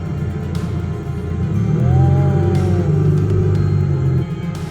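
A car engine rumbles steadily with a low drone and rising tone, fairly loud and close, with no voices.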